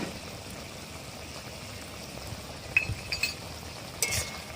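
Spoon clinking against a pan while roasted cumin powder is stirred into an okra and potato curry, a quiet simmer underneath and a few sharp metallic taps near the end.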